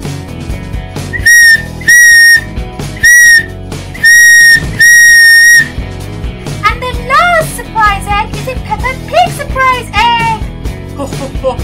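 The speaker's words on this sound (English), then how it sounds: "And look, George, there's a red car's whistle." A shrill red toy car whistle blows in several short and longer loud blasts, followed by warbling, sliding whistle tones and some chatter.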